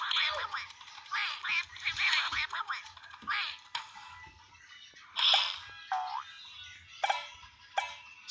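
Cartoonish duck quacks from the Fancy Pants platform game in the High Drive Caverns level, a string of short, bright, bouncy squawks with brief gaps, closing with a few sharper isolated quacks.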